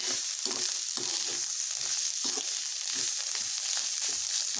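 Bitter gourd and kokum sauté in a pan with a steady oily sizzle, broken by repeated scraping and stirring strokes, close and fairly quiet.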